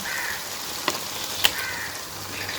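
Squid pieces go into a pan of sizzling tomato gravy, a soft steady hiss with two sharp clinks of a utensil, quiet and close, no voices.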